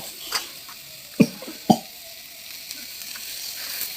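Fish frying in a pan with turmeric, chilli and cumin powder as it is stirred, a steady sizzle punctuated by a few sharp scrapes and clinks of the spoon against the pan.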